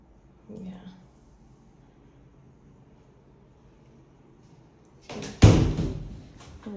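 Doors in a house under renovation, one being opened and shut: a soft bump early, then a loud close near the end with a brief rattle that fades, heard alone without talk.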